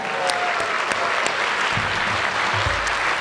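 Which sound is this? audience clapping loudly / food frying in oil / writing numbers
audience clapping loudly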